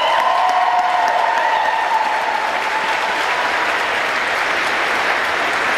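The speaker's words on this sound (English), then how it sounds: "Let's give them a round of applause." A city-government audience gives steady, dense applause for a team being thanked, loud and sustained throughout with no talking over it.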